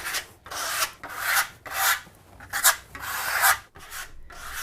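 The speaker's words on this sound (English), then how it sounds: "and then with a high angle, scrape it off." A steel trowel held at a high angle scrapes Venetian plaster off a wall in repeated long rasping strokes, each about half a second long and separated by brief pauses, loud and close, with no voices.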